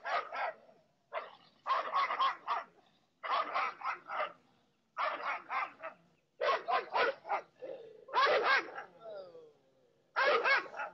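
Two dogs barking at each other along a fence, loud repeated bursts of barks in quick volleys separated by short pauses, close and dominant throughout.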